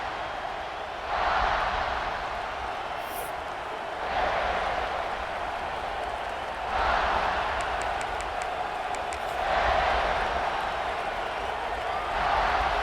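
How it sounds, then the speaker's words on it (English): A College Football 26 stadium crowd roars steadily at South Carolina's home game against Texas A&M, swelling in repeated waves of cheering under a continuous broadcast commentary voice. "This crowd ready to make its presence known."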